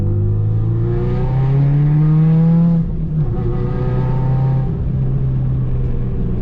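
Turbocharged EJ20 boxer engine in a JDM Subaru Legacy GT accelerating under boost, running on low fuel: a loud, close, continuous engine drone rising steadily in pitch, easing briefly, then climbing again through a second pull.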